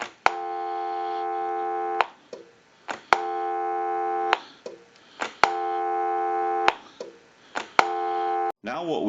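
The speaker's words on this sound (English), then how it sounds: "give you some dial tone." Tone through a Western Electric 5302 rotary desk telephone, sounding as a steady tone in repeated bursts about two seconds long, broken by sharp clicks and short gaps.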